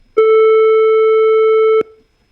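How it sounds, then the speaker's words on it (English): A pure sine tone softened by sigmoid distortion generated in Python sounds as one steady, slightly rounded electronic note with added harmonics, held for about a second and a half on its own, starting and stopping abruptly. "This has also rounded off the sine wave pretty well."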